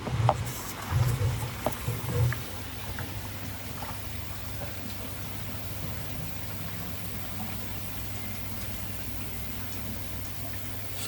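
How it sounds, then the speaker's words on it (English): A koi pond filter pump running after being switched on, giving a steady low mechanical hum with a watery rushing wash over it, constant and close, with a few brief knocks at the start. "And switch the pump on."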